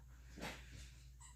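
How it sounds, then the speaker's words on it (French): A small female guard dog gives a soft whimper with breathy snuffling around one brief swell, faint and close in an otherwise quiet room. "yes, she is a little guard dog"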